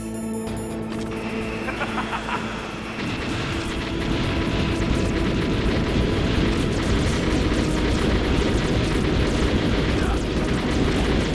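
A Hind attack helicopter in the video game Metal Gear Solid gives a heavy rotor and engine rumble that swells louder after a few seconds and then holds steady, with no one speaking.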